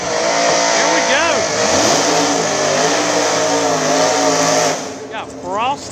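Small-tire drag racing cars at Dig Days VII roar loudly off the line. A dense, sustained engine howl with rising pitch sweeps drops away near the end as a second burst of revving climbs.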